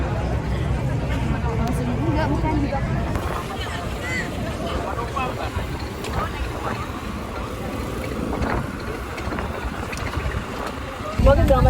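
Engine drone and wind buffeting aboard a boat ride around the Thousand Islands, a continuous rumbling roar with gusty microphone noise throughout, loudening at the very end, while people talk over it.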